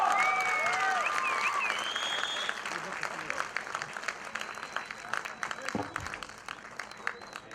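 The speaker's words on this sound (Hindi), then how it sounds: "चलो ना ताली मारो, क्या शर्माते हो यार।" An audience claps at a film launch event, with loud applause at the start that gradually fades into scattered claps, while voices and a brief high whistle-like tone ring out over it.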